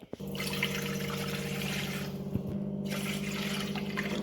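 Water pours steadily into a tea pot with a continuous trickling, filling sound and a faint hum beneath, a couple of small knocks along the way.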